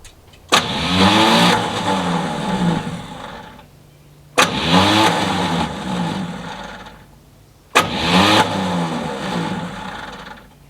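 A Chevrolet C10 truck left abandoned for ten years has its engine cranked by the starter in three loud, separate bursts, each a rhythmic churning that fades before the next try.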